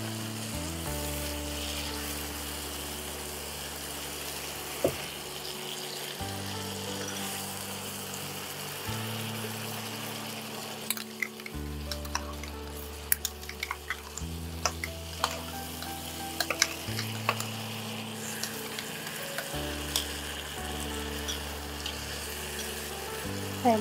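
Chicken coated in spice paste sizzles and crackles steadily in a pan for kali mirch chicken, with recurring scrapes and knocks of stirring throughout; no voices.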